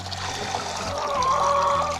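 Water poured for laying hens outdoors in winter, a steady trickling, splashing stream running continuously, close and moderately loud, with no talk over it.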